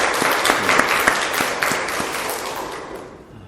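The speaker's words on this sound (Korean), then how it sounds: "격려의 박수 한번 합시다" A church congregation claps in encouragement for the choir after a worship service performance, a steady dense patter of many hands that fades gradually toward the end.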